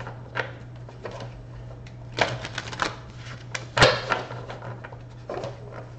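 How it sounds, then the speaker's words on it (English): Chakra wisdom oracle cards being shuffled and pulled from a deck, several short riffling bursts and soft slaps spaced irregularly over a steady low hum, close by with no voices. "Let me pull one of these chakra wisdom cards and see what we get"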